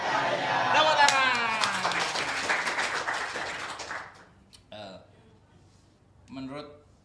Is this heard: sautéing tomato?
no